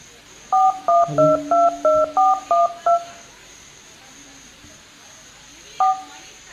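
A landline telephone is dialed with a rapid run of about ten clear, loud DTMF keypad tones, evenly spaced, then a pause and one more tone, with a faint hiss underneath.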